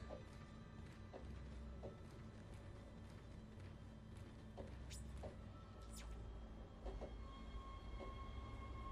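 A train in the Dead Space video game, a faint, steady rolling rumble with scattered metallic clanks and hisses spread across the quiet background.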